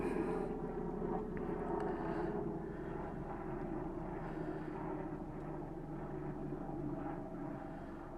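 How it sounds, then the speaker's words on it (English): A steady, low engine drone of a helicopter passing overhead, moderately distant and droning evenly throughout with no voices. "We've got a helicopter going over the top, so I hope you can hear me all right."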